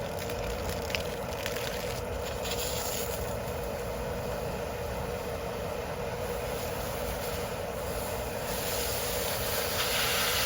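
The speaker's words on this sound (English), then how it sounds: "I am going to go hook up the high pressure nozzle for this and make this go a" A high-pressure hose nozzle sprays water onto an above-ground pool's cartridge filter, giving a constant loud hissing rush close by with slight shifts as the spray moves, and no talk.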